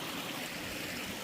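Fast-moving stream water rushing over rocks, a steady, dense, hissing wash with no pauses, heard alone and close.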